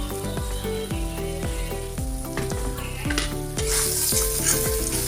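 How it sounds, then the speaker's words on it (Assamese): Coriander powder, cumin powder and red chilli fry in oil for an Assamese sour fish curry, a close sizzle broken by rhythmic scraping strokes of stirring, growing a little louder and hissier toward the end. "এতিয়া ভালকৈ ফ্ৰাই কৰি লওঁ"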